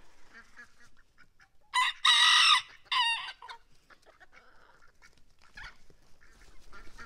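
Chickens squawk and crow loudly in frantic bursts as a male duck chases them around a farmyard, followed by quieter clucking and rustling.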